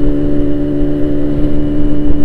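A Yamaha RX-King motorcycle fitted with a Boban exhaust runs close by, producing a loud, steady, buzzing engine drone that holds an even pitch with no voices.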